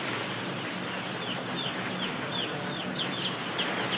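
Broiler chicks arriving at a poultry shed, a dense chorus of many small peeping chirps over steady background noise, continuous and moderately loud.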